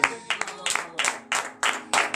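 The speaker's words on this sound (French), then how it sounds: "nous sommes là, en train d'applaudir notre Seigneur" A church congregation at a morning prayer in Benin claps in rhythmic bursts, several loud rounds of group clapping in quick succession with a voice speaking over them.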